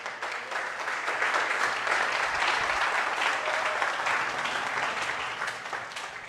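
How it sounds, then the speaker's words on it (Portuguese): A church congregation applauds loudly together in a sustained, dense burst of clapping that swells and then tapers slightly, with no talking over it. "Um forte aplauso ao Senhor."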